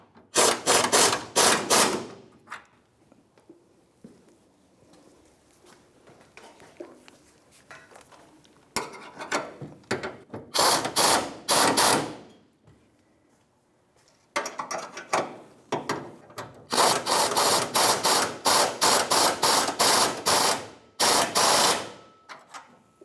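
A ratchet wrench snugs up the bolts on a 1992-1996 Ford F-150 rear fuel tank, with loud, close bursts of rapid clicking broken by quieter pauses filled with faint handling noise.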